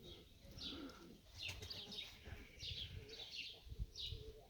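Pigeons in a loft coo with soft, low repeated calls, joined by occasional wing flaps and faint higher chirps, fairly quiet and close with a gentle background rustle.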